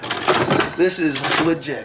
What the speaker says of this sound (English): Check out his cash register.